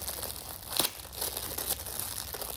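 Metallic wrapping paper crinkled and torn open on a book, close and crisp, with a sharp tearing burst followed by continued rustling.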